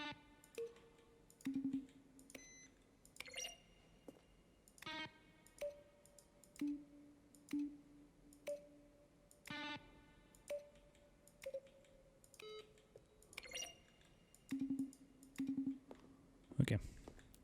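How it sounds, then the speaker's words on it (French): Menu button sounds from the video game The Stanley Parable, each a blend of a keyboard-key click and a short synthesizer tone, come as a string of separate clicks and beeps at an uneven pace, fairly quiet and alone. "Chaque son est un mélange de frappe au clavier et de tonalité de synthétiseur."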